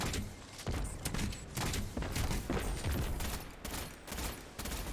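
Rapid, repeated weapon fire in Destiny 2 during a Legend Lost Sector fight, with steady bursts of shots and impacts packed closely over a few seconds at moderate loudness and no talking.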